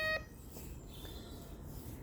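A DR.ÖTEK MT-XR metal detector gives one short, loud beep at the very start, then only a low, steady background hiss remains.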